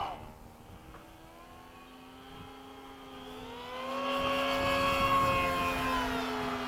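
Radio-controlled Bobcat pusher model plane taking off on its maiden flight, its propeller whine steady and near at first, then rising in pitch and loudness as it climbs away, with faint voices of onlookers around it.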